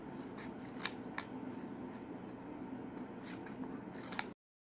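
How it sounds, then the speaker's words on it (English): Scissors snipping a plastic paint bottle into small strips, a series of quiet, sharp cuts at irregular intervals against a soft background hiss. "with the help of scissors I am just going to cut very small"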